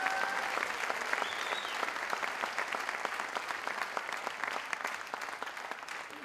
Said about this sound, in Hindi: जोरदार तालियां सर के लिए हो जाए।